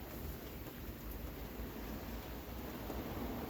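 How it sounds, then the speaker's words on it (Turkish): Steady rain hisses evenly over a sailboat moored at Tahiti, soft and constant, with a faint low rumble in the background and no voices. "yağmur kalacak gibi değil."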